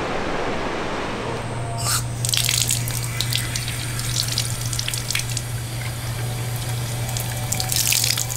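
Steady rushing water pours from a campsite tap fitted with a hose, a constant close splashing stream with a low hum underneath and occasional higher spatters.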